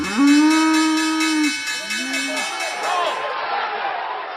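Red Angus cattle low loudly in a long, clear moo followed by a shorter second call, with ranch ambience and a faint hum lingering after.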